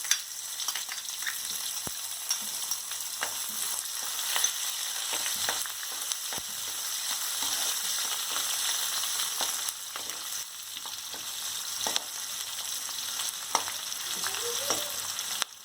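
Onions fry in a pan over mustard seeds with a constant close hiss of sizzling oil, scattered crackles and occasional utensil taps across the stretch, with no speech.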